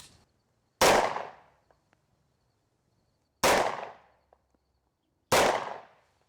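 Three loud, sharp gunshots ring out with spaced, irregular timing as 7.62x25 Tokarev rounds are fired at FR4 and phenolic panels, each crack decaying quickly into a quiet outdoor background, with no talking.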